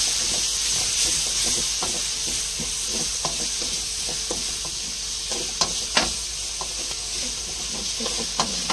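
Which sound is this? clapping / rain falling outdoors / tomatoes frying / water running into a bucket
tomatoes frying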